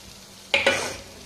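A spatula stirs mashed bitter gourd with kalonji in a hot pan, giving two close, short bursts of scraping and soft sizzling that fade into a quiet kitchen hiss.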